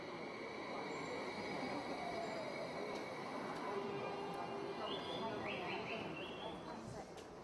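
A Tsukuba Express commuter train, a 130 km/h regional express line, runs with a steady broadband rumble and faint high squeals throughout.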